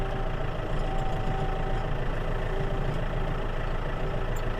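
A tractor engine idles out of gear with a steady, continuous low rumble and a faint knocking texture, heard close and with no talking.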